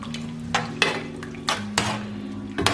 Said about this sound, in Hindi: हमेशा जो स्टील का चम्मच होता है ना, उसके साथ आप मिक्स करें।